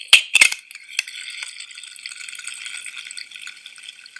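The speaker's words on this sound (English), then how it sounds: "that one is a drinks can being opened and poured" A drinks can cracks open with a sharp snap and fizz, then liquid pours in a steady trickling stream, close and clear, with no voices.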